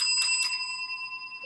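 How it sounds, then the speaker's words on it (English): A small bell rings with a bright, sustained metallic tone, struck a couple of times in quick succession and then left to ring out cleanly in a quiet room. "I ring that bell."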